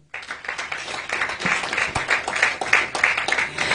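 Audience at a Lagos press conference of Nigerians in the diaspora welcomes a barrister with applause: close, crisp hand claps that start abruptly and build into a rhythmic, lively ovation.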